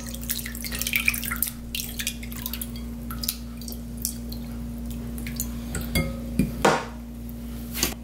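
Rinsed oysters being drained in a bowl: sparse drips and trickles of water with light clinks of dishware, quiet and close against a faint steady hum.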